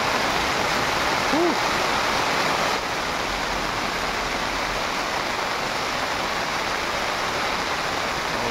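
Heavy, continuous rain during a red alert in Benguet, a steady broadband rush like a waterfall that holds unbroken at a loud, even level throughout, with no talk over it.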